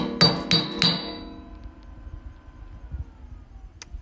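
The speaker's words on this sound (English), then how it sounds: "now we can chip off the slag and see how good and or bad I have done" Slag being chipped off a fresh weld: three quick, sharp metallic strikes ring out close together and decay into quiet, followed by one faint tick.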